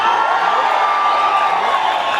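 Audience applause and cheering fill a school arts festival hall at the Kerala State School Kalolsavam 2016 closing ceremony, a dense, steady roar of clapping and shouting for the whole stretch with no gaps.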